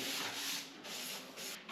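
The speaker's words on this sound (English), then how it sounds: "just brush off any excess dust that's gathered from the sanding." Soft brushing strokes sweep sanding dust off a wooden garden planter, a few rhythmic swishes close by and fairly quiet.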